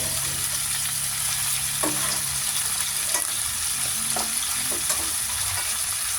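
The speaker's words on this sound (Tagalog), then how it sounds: "Igisa na natin." Beef sautéing for Filipino calderita gives a steady, close sizzle and hiss, with a few light scrapes and taps of a utensil stirring the pan throughout.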